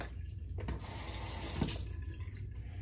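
Tap water runs steadily into a sink during a rinse after a leaf razor shave, a close, continuous splashing stream with a few brief louder splashes and no talking.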